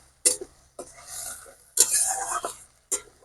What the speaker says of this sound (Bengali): এই পেঁয়াজটায় কিন্তু খুব ভালো করে আমাকে কষিয়ে নিতে হবে